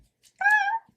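A woman imitates a cat with a single short, clear, tonal meow, close and fairly loud against near silence.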